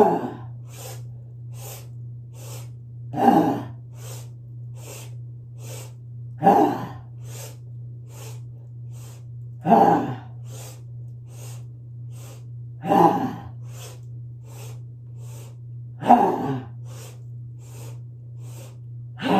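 Big forceful exhales from breath of joy yoga breathing, about six loud whooshing breaths spaced a few seconds apart over a steady low hum, each release rising sharply and then fading.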